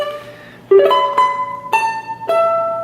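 Ukulele picking a melody: a few plucked notes ringing out one after another, ending in a bright strum, close and clear with no talking.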